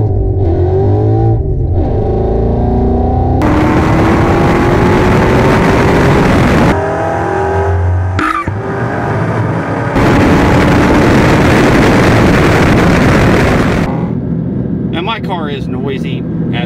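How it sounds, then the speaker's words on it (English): Loud car exhaust from a car running an off-road X-pipe with Roush axle-back mufflers, roaring and surging through several revs and pulls over a droning rumble, with a person talking over parts of it. "The exhaust is obnoxiously loud. I'm running an off-road X-pipe with Roush axle backs"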